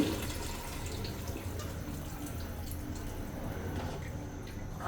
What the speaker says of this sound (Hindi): हमने 2 लीटर पानी डाल दिया